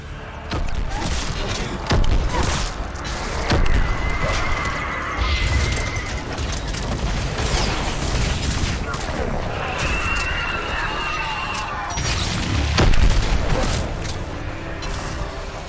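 Missile strikes in Mass Effect land as a steady run of loud booms and crashing impacts over a dense, roaring battle backdrop, with heavier blasts near two, four and thirteen seconds.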